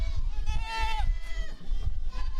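Goats on a goat farm bleat in wavering, drawn-out calls, one loud and near and others fainter, over low rumbling background noise.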